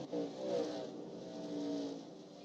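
The Enterprise Chevy race truck in iRacing at Texas Motor Speedway gives a brief, distant engine drone that rises and falls as it circulates, faint and alone.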